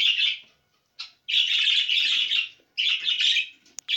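Pet birds in a breeding cage chirp in bright, busy bursts of close twittering song, broken by short pauses and a single sharp high note near the end.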